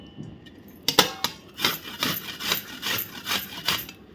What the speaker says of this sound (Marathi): अशा प्रकारे हे आपण आवळे आता किसून घेऊया